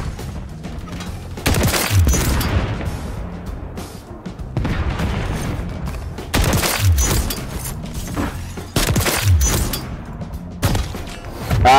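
Rapid automatic gunfire from a weapon firing about 30 rounds per second in the video game MW3 comes in loud sustained bursts, separated by quieter gaps.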